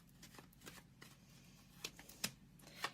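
Tarot cards being shuffled by hand at close range, a quiet run of soft riffling and flicking with a few sharper card snaps toward the end.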